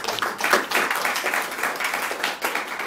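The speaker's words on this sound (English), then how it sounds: "give thanks and a round of applause for our great Queen Mother, Mama Alma Puss." A lecture-series launch audience gives a round of applause for an elder honoured as Queen Mother, a modest, uneven patter of clapping hands with pulsing bursts, fairly soft and unaccompanied by talk.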